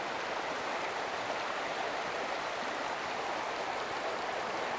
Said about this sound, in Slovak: Započúvajme sa do zhurčania potôčika.